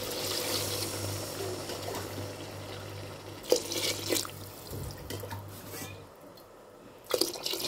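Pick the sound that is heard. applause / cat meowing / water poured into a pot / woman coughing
water poured into a pot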